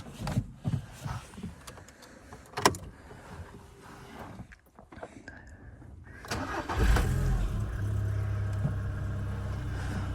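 An Audi MPI petrol engine with 171,000 km cranks and starts after some shuffling and clicks, then settles into a steady, close idle hum.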